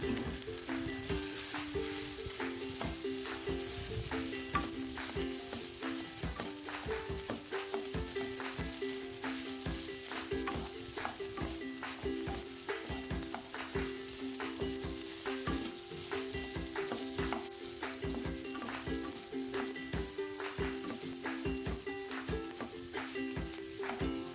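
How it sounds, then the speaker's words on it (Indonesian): White rice is stirred and fried in a pan for fried rice, a continuous loud sizzle with repeated scraping and clinking of a spatula against the pan in an uneven rhythm, no voices. "masukkan nasi putih lalu aduk hingga rata"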